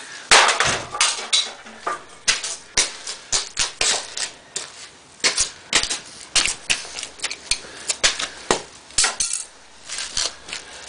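A DVD player is smashed with repeated sharp, loud impacts in an irregular rapid rhythm, clattering blows close by with short pauses between bursts.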